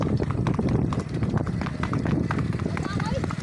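Hoofbeats of a mare moving in the revaal gait, a rapid, steady clip-clop running continuously close by while several people talk and call out over it.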